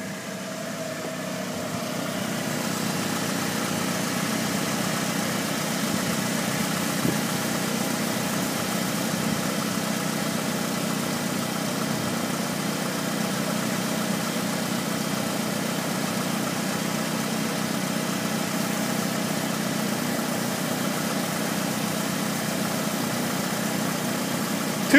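A 2002 Chevy S10 pickup with a 2.2-liter engine idles steadily for the whole stretch, a constant mid-low hum with even vibration and no talk over it.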